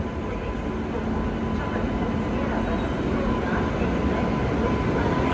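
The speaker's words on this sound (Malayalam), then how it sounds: "ദേ ട്രെയിൻ വരികയാണ്." A train arrives at a station, heard as a steady, moderately loud low rumble that continues evenly throughout.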